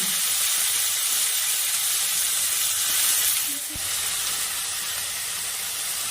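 Chopped onions hit hot oil in a wok, producing an even, dense sizzling hiss that holds steady, with a single sharp knock midway.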